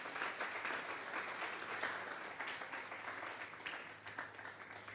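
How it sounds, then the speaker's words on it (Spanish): A church congregation at a Sunday morning service applauds, a sustained wash of many hands clapping that holds steady for several seconds, heard from within the room with no voices over it. "Vamos a darle un fuerte aplauso al Señor esta mañana"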